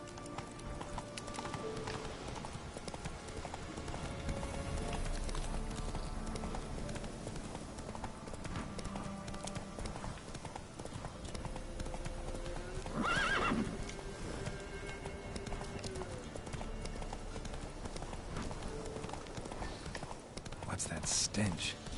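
Roach, a horse in The Witcher 3, gallops with steady clip-clop hoofbeats under game music and ambience, with a neigh and brief talk partway through.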